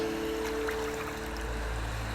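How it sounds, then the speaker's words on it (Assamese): Steady rushing of Manas River water tumbling over stones in Manas National Park, a continuous close wash with no voices. "শিলে শিলে ঠেকা খালে মানস নদীৰ পানী"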